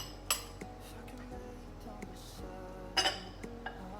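A metal spoon clinks against a pot as onion is added while making baked chicken and potatoes, giving a few sharp, close chinks over a low background hum.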